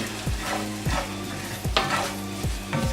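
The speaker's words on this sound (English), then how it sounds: "I'm gonna put a little flour in here to make my gravy. Just gonna mix that all in there together." Flour stirred into hot fat in a pan for a roux, loud close sizzling with repeated scraping spoon strokes against the pan about every half second.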